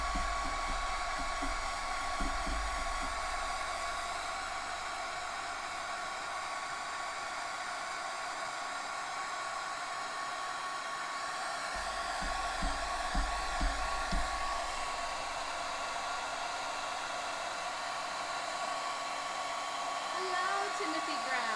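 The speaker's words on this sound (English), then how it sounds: "Sorry about the blow dryer." A blow dryer blows continuously nearby, a steady airy roar with occasional low thumps and handling bumps, and a voice briefly speaks under it.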